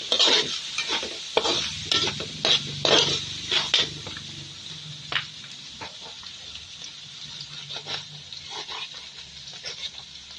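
Spaghetti being stirred in a pan with ginisa mix seasoning, a scraping, clinking utensil rhythm with light sizzling, busiest early and thinning out later.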